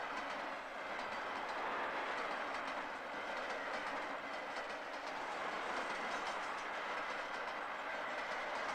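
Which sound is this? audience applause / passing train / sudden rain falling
passing train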